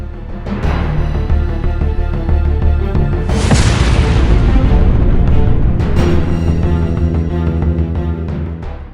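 A giant FAB-3000 bomb explosion: a loud, sustained low rumbling boom that swells into a heavier blast partway through, with dense roaring that persists throughout, no voices heard.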